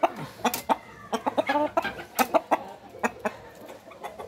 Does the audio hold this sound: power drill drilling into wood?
no